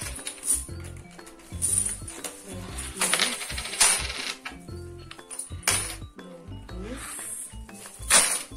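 Coins tumble out of an opened piggy bank in repeated bursts of clinking and jingling, some sharp metallic chinks standing out, with a few louder spills spread across the stretch.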